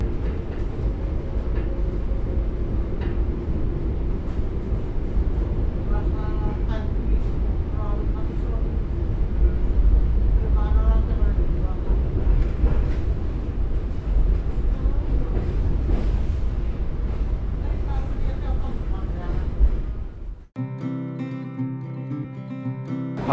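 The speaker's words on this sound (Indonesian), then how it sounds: "perjalanan kereta api Argo Cirebon sekarang sudah tiba di tujuan akhir stasiun Tegal" Inside an Argo Cheribon economy train pulling into Tegal station, a steady low rumble of wheels and carriage noise carries along with occasional voices, then cuts off abruptly into a short musical chime.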